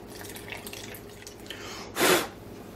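Computer water-cooling block being rinsed with fresh fluid: low trickling and dripping, then a brief loud splashing gush near the end, alone with no speech.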